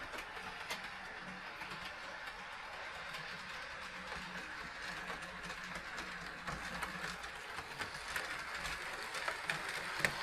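A model train hauling Rapido boxcars around the track, with a quiet, steady clicking and rattling of wheels and gears that stays close and continuous and grows slightly louder near the end.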